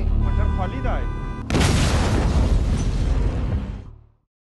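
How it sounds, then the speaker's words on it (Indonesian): A car bomb detonates in an action film, a sudden loud blast that cuts off a musical tone and rolls into a long, heavy rumble before ending abruptly in silence. "seketika mobilnya meledak yang menewaskan satu orang prajurit dan satu orang penerjemah"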